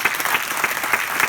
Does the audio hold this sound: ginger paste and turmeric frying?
no